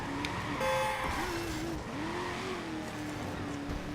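Car engine in the Watch Dogs video game, driven through city streets and brought to a stop for parking, steady engine drone with rising and falling revs and a brief tire squeal, with game background sounds underneath.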